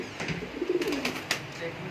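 Pigeons cooing at a breeder's loft in Sheikhupura, soft low coos rising and falling across the moment, mixed with faint chirps and a light background of voices.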